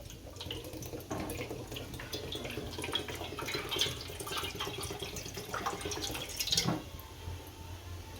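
Water runs and splashes steadily into a pan on the stove, a continuous trickling pour with a brief louder gush near the end.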